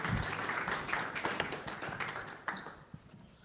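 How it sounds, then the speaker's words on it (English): Audience applause at a talk on AI for marketers: a room of people clapping steadily, with dense overlapping claps that gradually thin and fade over a few seconds, moderately distant and without voices. "Let's give Paul a round of applause."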